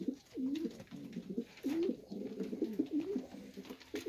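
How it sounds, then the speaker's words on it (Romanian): Domestic pigeons, including an older bird of three to four years, cooing in a backyard aviary: repeated soft, throaty coos in close succession, near and clear against a quiet background. "Ăsta e un porumbel mai bătrân, vreo 3-4 ani, la Mircea Popa."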